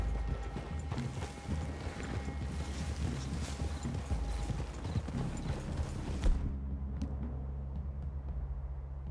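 Horse hooves clip-clop steadily in Red Dead Redemption 2 over a low rumbling background, the busy sound cutting away after several seconds to a quieter hum.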